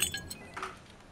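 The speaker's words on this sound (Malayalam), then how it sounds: "മേശപ്പുറത്തിരുന്ന മൊബൈൽ എടുത്ത നേരം കൈതട്ടി വെള്ളം നിറച്ച ജാർ നിലത്ത് വീണു പൊട്ടി" A glass jar filled with water is knocked from a table onto the floor and breaks: a few sharp, bright clinks and a crash in quick succession, then fading scattered tinkles against a quiet room.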